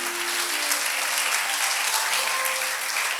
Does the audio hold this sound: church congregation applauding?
yes